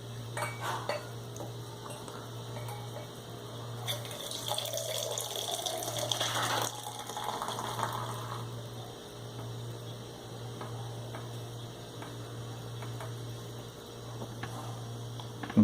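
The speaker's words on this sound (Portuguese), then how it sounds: "isso é a cerveja sendo tirada na mesma pressão que ela foi carbonatada, usando a torneira piquenique" Beer pours from a picnic tap at carbonation pressure in a faint, steady stream of liquid and foam, with a louder gush in the middle, over a low electrical hum in a quiet room.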